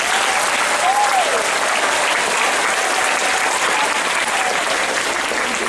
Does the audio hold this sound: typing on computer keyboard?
no